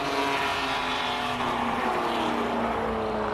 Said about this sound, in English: Huge exhaust noise coming out.